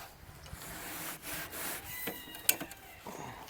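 A cleaning brush twisted and turned inside a wood-burning stove pipe, giving close, continuous scraping and rubbing with a few sharper knocks near the end.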